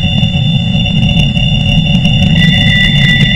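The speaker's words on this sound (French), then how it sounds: "vous entendez un bruit très aigu, très fin" A thin, steady high-pitched tinnitus tone rings continuously, joined by a second high tone partway through, over a constant low rumbling drone.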